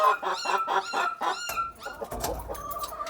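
Chickens cluck repeatedly at close range in a quick rhythmic series, then scattered squawks and rustling follow.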